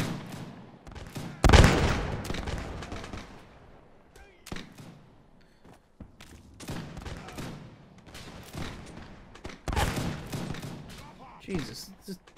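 Gunfire in Mount&Blade with the L'aigle Sharpe's Rifles mod: scattered loud shots and crackling volleys in several bursts, one heavy blast near the start, with a voice talking faintly between them.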